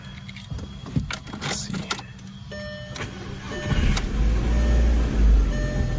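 Startup of a 2005 VW GTI 1.8t after cooling system service, heard from inside the car: clicks, key jangles and a chime first, then the engine cranks and catches into a loud, steady idle rumble.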